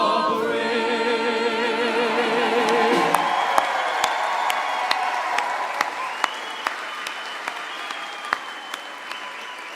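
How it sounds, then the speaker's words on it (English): Applause and cheering at a high school commencement ceremony, opening with music and crowd noise, then thinning into scattered individual claps and whoops that pop out sharply over a fading crowd. "How about one more round of applause for our students?"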